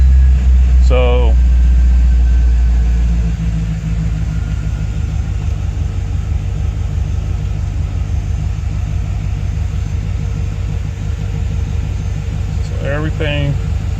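A 1996 C4 Corvette engine idling, a loud steady low rumble throughout after a slightly heavier start, with brief bursts of a voice near the beginning and end.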